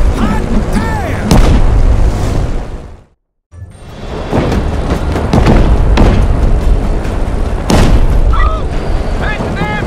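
Gunfire and explosions from a shooting gallery in the video game Just Cause 3: loud, continuous booming blasts and bursts with whooshes, briefly dropping out, while people talk over the barrage.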